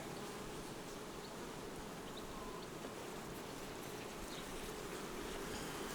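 A dense, steady hum of many honeybees buzzing at a hive, Carpathian and Buckfast bees, close and continuous without pause.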